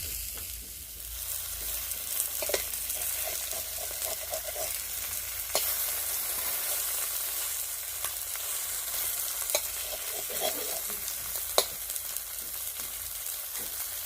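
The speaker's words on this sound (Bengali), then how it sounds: "এই যে মাছগুলো ভাজা করছি" Fish fries in a pan with a steady, close sizzle that runs unbroken, punctuated now and then by sharp ticks and scrapes from turning or stirring.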